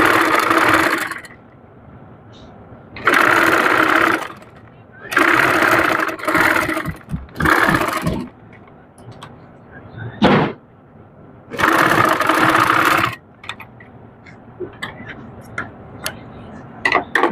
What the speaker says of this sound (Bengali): তারপর এটাকে সুন্দর করে মুড়িয়ে সেলাই করে নিব।